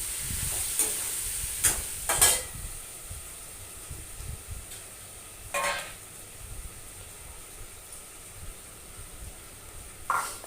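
Vegetables with tomatoes cooking in a covered pan give a steady low sizzle and hiss, broken by a few sharp clinks and scrapes of utensils against cookware, close by with no talk.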